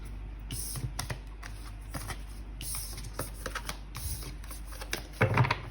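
Tarot cards being shuffled by hand, crisp repeated riffling and tapping bursts close by, with a busier clatter toward the end.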